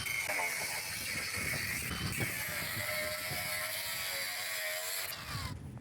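Screws being driven into a wooden shed frame during assembly, a steady whirring, ratcheting drill drive running almost continuously at close range, with a brief pause near the end and no talk.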